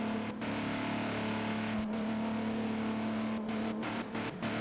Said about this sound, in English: you can hear that that car's not happy. That car is busted.